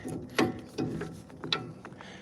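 Wrench tightening a nut on a new drum on a sealcoat trailer, a few short ratcheting clicks and metallic turns in quick bursts, close and fairly quiet.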